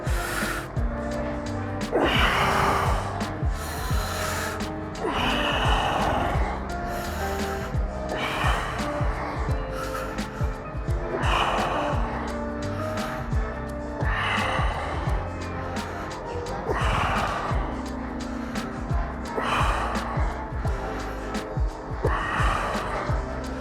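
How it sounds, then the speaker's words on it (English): Heavy rhythmic breathing during a shoulder-lifting workout, strong breaths recurring roughly every few seconds over a constant noisy background. "Gonna breathe in and then start the lift."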